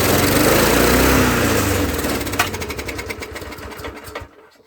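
A Murray lawn mower engine runs at a loud, high rev, then loses power, its firing slowing into sputtering pulses before it dies out completely.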